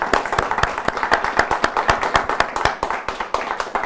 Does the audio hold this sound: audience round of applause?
yes